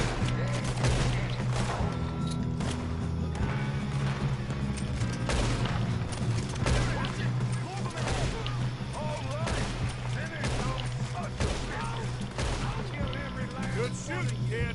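Gunfire in the video game Red Dead Redemption 2, with repeated loud shots cracking over a steady humming music bed, with voices talking throughout.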